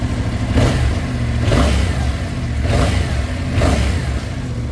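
A 2023 Yamaha YZF-R7 middleweight sport motorcycle is revved up close in four even blips, each a short rising roar that falls back to a steady, fairly quiet idle between them.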